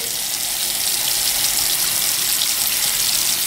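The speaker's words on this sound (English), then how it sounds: "I'll just kind of put them in the water, give this a little shake" Makeup brushes are rinsed in water, giving a steady, fairly loud rushing splash of running water that carries on unbroken throughout, close by and without talk.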